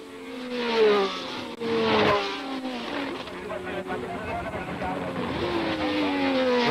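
1976 Formula One racing cars at Zolder wail through a tricky chicane, several high-revving engines rising and falling as they pass close by, with a commentator talking over the roar.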